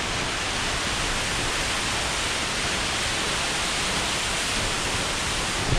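Cascada Las Delicias, a waterfall in Colombia, gives off a constant dense rushing hiss of falling water, steady and close, with no other sounds over it.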